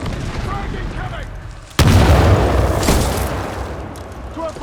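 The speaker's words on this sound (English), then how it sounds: "Frag incoming!" A frag grenade in Titanfall 2 goes off with a sharp, loud boom that cuts through the battle noise, followed by a rolling rumble and a second crack, with faint voices before and after.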